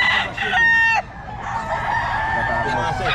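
A rooster crows loudly and close by, two drawn-out calls separated by a short break, with farmyard background noise around them at a gamefowl seller's yard in Bulacan.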